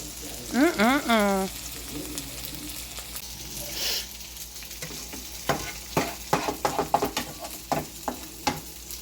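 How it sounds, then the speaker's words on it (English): Onions sizzle steadily in a hot frying pan as they caramelize, with intermittent scraping and tapping of stirring; a brief tonal vocal sound comes near the start. "Listen to that sizzle."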